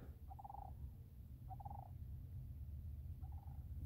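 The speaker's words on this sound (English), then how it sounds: "Wow, I could still hear that duck thing." Outdoors on a homestead at night, a bird gives three short, buzzy honking calls spaced about a second apart, faint and distant over a steady background hiss, with no one speaking.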